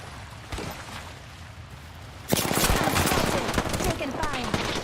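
Gunfire in a video game breaks out after a quieter stretch and becomes a loud, dense stream of rapid shots that keeps going to the end.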